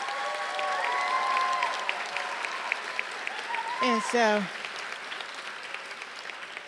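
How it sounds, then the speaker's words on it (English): Graduates at a John Jay graduate hooding ceremony receive a round of applause from the crowd, steady clapping rising briefly, with a voice talking over it throughout. "Let's give them another round of applause."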